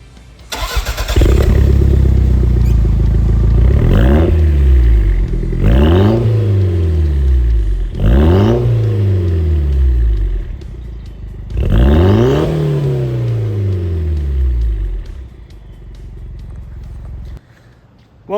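Toyota MR2 turbo engine fitted with a Berk downpipe exhaust, revved close up in four or five loud rising-and-falling blips, settling back to a steady idle between them, with no talking.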